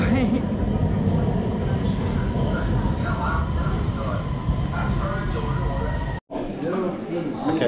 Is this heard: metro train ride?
yes